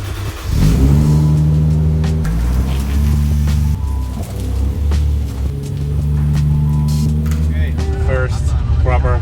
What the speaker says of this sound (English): So let's get this thing out and go for another test drive.